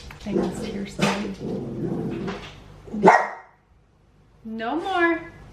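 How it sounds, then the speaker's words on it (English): A neighbor's dog barks in several sharp bursts, fairly close, with a person talking between the barks and a higher whining yelp near the end. "Neighbor dog. They like freak out."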